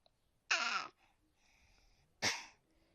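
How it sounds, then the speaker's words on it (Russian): Two sharp, loud coughs from one person, close by, about two seconds apart, with quiet breathing between them. "Кто там кашляет?"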